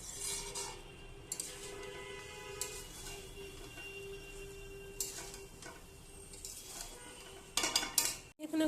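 Rice being stirred in a pot while cooking khichuri, with quiet intermittent clinks and scrapes of a spoon against metal over a faint background, and a louder clatter near the end.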